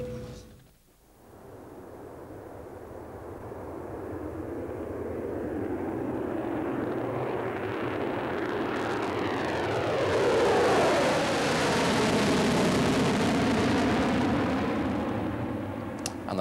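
Concorde supersonic airliner engines roaring steadily and loudly, building in intensity over time with a sweeping, rising jet howl, no talking.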